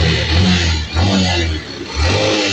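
A Honda CB125 motorcycle engine runs close by after a top overhaul, its low rumble rising and falling through a couple of throttle blips over a few seconds, loud and steady with no talk.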